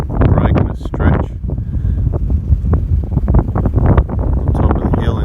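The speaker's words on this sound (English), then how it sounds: "On top of the hill in the wind." Strong wind buffeting the microphone on top of a hill, a loud continuous rumbling roar with gusty surges, with speech mixed in underneath.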